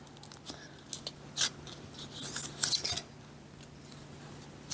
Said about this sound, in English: And just get the paper off.